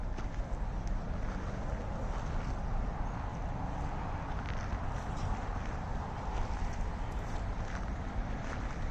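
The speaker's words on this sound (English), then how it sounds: "water's in the background" Outdoor water in a backyard by the shore, a faint broadband wash blended with wind buffeting the microphone, continuous and low in level with no voices.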